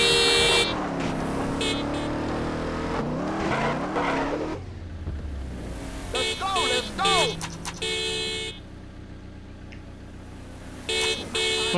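Remastered car sounds in GTA San Andreas: a loud engine revs and rises in pitch, then drops away, followed by several sharp toots of a car horn in short bursts with gaps between them.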